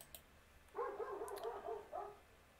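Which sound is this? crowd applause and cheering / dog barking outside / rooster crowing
dog barking outside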